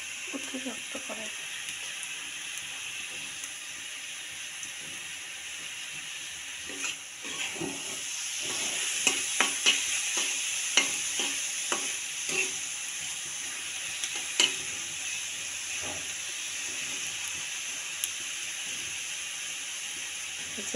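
Coconut fries in a kadai while making kuli pitha, a steady sizzle under repeated scraping and stirring strokes from a spoon against the pan, close and moderately loud throughout.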